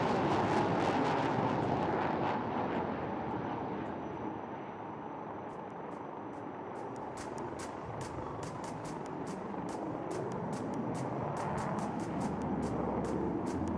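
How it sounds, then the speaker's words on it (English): A Sukhoi-30 MKI fighter jet takes off and banks left during a flying display at the Aero India air show, making a loud, steady, rushing jet roar for the whole stretch that eases a little midway and then swells again. "the mighty Sukhoi-30 MKI, taking off and turning left"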